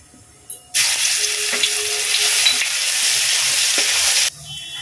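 Cumin seeds and garlic hit hot oil in a pan after fish has been fried, setting off an abrupt, loud, continuous sizzle that holds steady for a few seconds before cutting off sharply.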